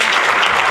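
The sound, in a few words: audience applause for Eleanor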